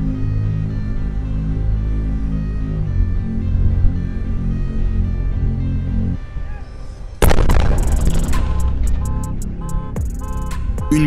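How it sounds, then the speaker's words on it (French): A SpaceX rocket engine test fails at Starbase, Texas: a steady droning, tonal background gives way to a brief dip, then a sudden loud blast followed by sustained crackling, rumbling roar. "Une puissante explosion à la Starbase, le site de lancement d'essai de SpaceX au Texas, a été provoquée par l'échec d'un test de moteur de fusée"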